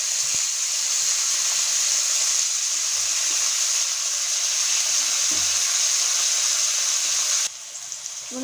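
Bitter gourd frying in oil in a pan, a loud steady hiss and sizzle that runs unbroken, then drops a little lower near the end, close to the pan with no talking.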